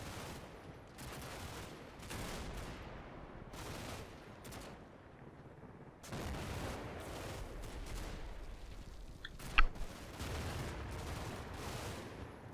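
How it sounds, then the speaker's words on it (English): Mortar rounds from an 81mm mortar and gunfire in the Combat Mission: Red Thunder game, a steady wash of distant rattling fire and thuds with one sharp loud burst near the end. "we're getting some 81mm rounds on that corner"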